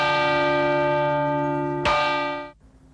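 A church bell rings in Agnone, an Italian town known for its bells, sustaining a loud ringing tone, struck again near the end before the sound is damped and cut off.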